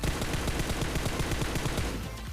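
Rapid automatic gunfire crackles in a dense, continuous burst of evenly spaced shots from a PUBG Mobile firefight, fading slightly at the end, with no speech.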